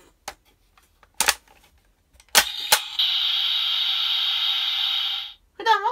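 Kamen Rider Build toy from the Octopus Light Fullbottle set playing its normal electronic sound effect, a few sharp clicks followed by a steady bright buzzing tone lasting over two seconds, then brief talk at the end.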